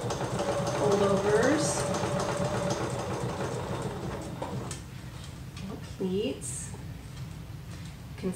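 A sewing machine hums along a curved seam in liquid lamé, running steadily and close for several seconds before slowing, while someone talks over it.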